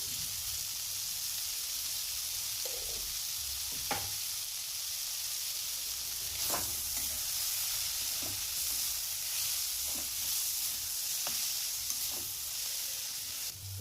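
Kashmiri chili and turmeric hit hot oil in a frying pan with tomato for a potato dum, giving a continuous soft sizzle and hiss with occasional spoon taps and scrapes, close and without talk.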